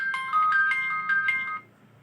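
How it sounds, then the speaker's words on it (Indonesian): A phone ringtone plays alone, a bright repeating electronic melody of short pulsing notes for about a second and a half before cutting off into near silence. "Nah, ini ada telepon."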